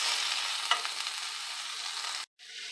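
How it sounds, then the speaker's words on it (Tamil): Ivy gourd sautéing in a pan gives off a steady close sizzle with faint stirring clicks, cut by a brief silence near the end before the hiss resumes. "இது கொஞ்ச நேரம் அப்படியே வதங்கிட்டேன்."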